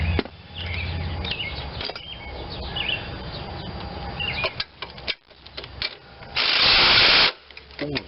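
A Ryobi power tool tightens bolts on a 21-inch MTD Pro self-propelled mower with a Honda engine: scattered close clicks and scraping, then a loud, steady whirring burst lasting about a second near the end.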